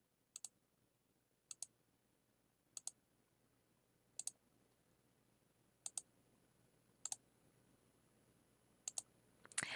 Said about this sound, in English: So I'm going to start clicking on everything on here.